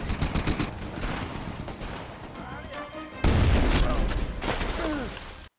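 Gunfire in a war film battle between German and British soldiers: rapid shots and bursts crackle over rumbling booms, growing heavier and louder partway through, with voices shouting beneath.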